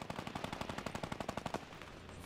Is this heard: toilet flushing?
no